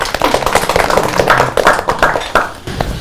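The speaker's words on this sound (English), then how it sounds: "Applause for her." Applause at a round-table event on gender portrayal in advertising, uneven bursts of clapping from a modest group with distinct individual claps, fairly close and loud.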